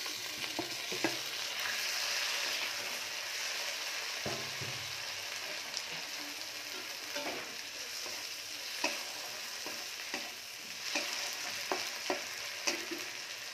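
Steady, fairly loud sizzle of onions frying in a pan throughout, with occasional scrapes and taps of a spatula stirring.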